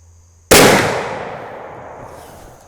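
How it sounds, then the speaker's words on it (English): A single muzzleloader rifle shot fired during an accuracy test of muzzleloader bullets, a sharp, loud blast that starts abruptly and rings out in a long, fading decay, with no voices. "I'm going to load up and do 3 more shots and 3 more charges there."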